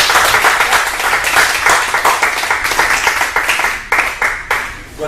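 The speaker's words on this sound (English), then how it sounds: "big round of applause for God Slor" Applause from an audience at a business mastermind meeting, a dense wash of many hands clapping close by and fairly loud, with a few sharper claps standing out as it thins near the end.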